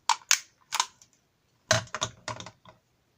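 A handheld label maker snaps and clicks as it cuts its label tape, with sharp, close mechanical clacks in two bursts separated by a short pause.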